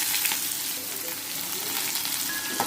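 Onions sautéing in hot oil with fennel seeds and cinnamon for a village-style goat mutton gravy, giving a steady, close, continuous sizzle and crackle throughout with no talking.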